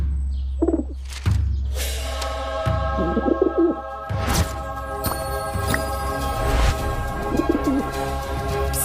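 A pigeon coos repeatedly in a cartoon classroom scene, soft throaty calls recurring between louder cartoon effects, bangs and music, fairly close and clear with no talking.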